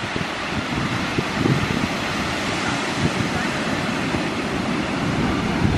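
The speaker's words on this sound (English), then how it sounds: "It's a rough day with the waves today because it's coming in close already" Rough ocean waves break on a beach in the early morning, a continuous loud wash of surf with wind buffeting the microphone throughout and no clear speech.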